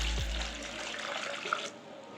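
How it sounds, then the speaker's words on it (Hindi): Water poured from a vessel into a large cooking pot holding washed saag greens, a steady splashing gush that runs for most of the moment before cutting off, close and fairly quiet. "अब मैंने पतीले में डाल दिया है और अब इसमें मैं 2 से 3 लीटर पानी डालूंगी"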